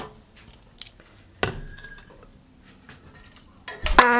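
Spoon scraping and clinking against a pot and plate while Jamaican tinned ackee and codfish stew is scooped onto boiled dumplings; soft scattered taps, then a loud clatter of dishware near the end.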